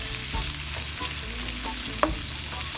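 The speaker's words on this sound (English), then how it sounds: "So you're gonna cook your shrimp in the garlic and oil." Shrimp fry on high heat in garlic and oil, a steady close sizzle with a few scraping stirs and one sharp clink.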